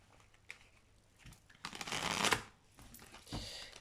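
Tarot cards being shuffled in riffling, shuffling bursts that build to a dense flurry in the middle and then trail off, recorded close up with no talking.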